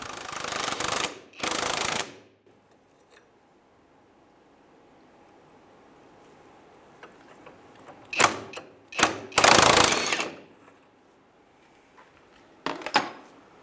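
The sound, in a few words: impact wrench removing 22 mm strut bolt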